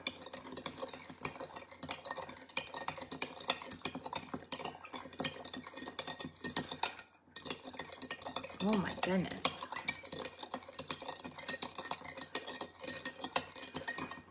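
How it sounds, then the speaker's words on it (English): Gritty sugar granules rattle and scrape against a glass jar as something is stirred steadily, with a brief pause midway; a voice exclaims briefly. "You can hear all the sugar bouncing around on the bottom."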